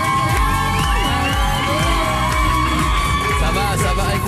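Fans screaming and cheering in a French radio studio, a loud sustained mass of high shrieks and whoops from a crowd, with overlapping yells rising and falling over several seconds.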